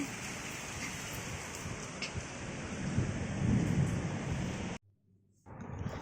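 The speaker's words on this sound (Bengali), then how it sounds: "পাপা জানলা দিয়ে বৃষ্টি দেখছে" Heavy rain pours in a dense, steady hiss while thunder rumbles low, then the sound briefly cuts out before the downpour resumes.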